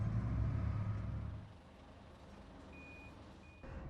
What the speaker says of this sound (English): We take the peat from this area using dump trucks